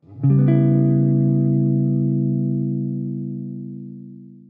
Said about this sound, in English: we get a minor 7 with a flat 5